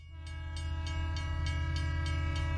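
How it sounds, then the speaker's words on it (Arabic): A train approaches with a steady, heavy rumble and a sustained horn-like tone, while rhythmic wheel clacks repeat about every third of a second and the sound swells slightly louder. No one speaks. "ثمة قطار قادم"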